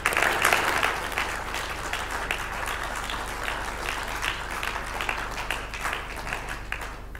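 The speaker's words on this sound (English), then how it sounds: "can we give one final round of applause to all of our presenters tonight?" Steady audience applause for the presenters at an evening talk on biocontrol, sustained dense clapping from a room full of people, holding even throughout.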